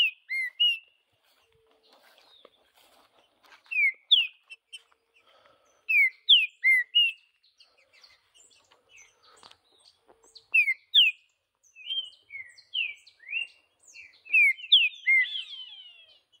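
A green-winged saltator (trinca-ferro) sings in the bush, delivering short clear whistled phrases in bursts separated by pauses, loud and fairly close, with no voices.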